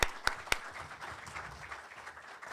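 An audience applauds two NATO naval officers, Commander and Lieutenant Commander, at a conference: a few sharp nearby claps open onto a soft, steady patter of clapping from a room crowd.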